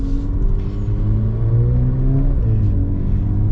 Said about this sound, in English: The engine is so different in a good way, in the best possible way.